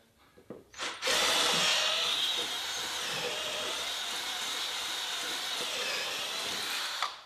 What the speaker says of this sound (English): we're just going to use just a normal drill driver with a small paint paddle on it